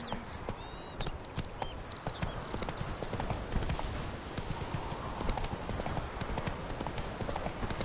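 Roach, a horse in The Witcher 3, gallops with rapid, continuous clip-clopping hoofbeats that stay close and loud throughout.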